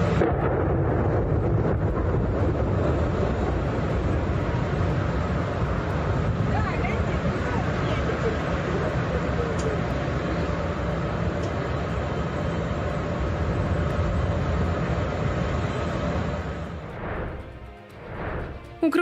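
Heavy, continuous rumbling explosions in Donetsk roll on with barely a pause, deep and distant, before the noise thins out near the end.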